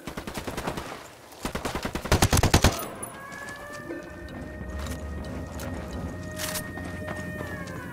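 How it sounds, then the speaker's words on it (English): Machine gun fire in Ghost Recon Wildlands: a loud, rapid burst of automatic shots in quick rhythmic succession, followed by a quieter stretch of rumbling mechanical background with faint tonal whine. "machine guns."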